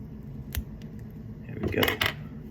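Scissors snip braided fishing line near a spinning reel, one crisp cut followed by a quick double snip a moment later, close and quiet over a faint background hum.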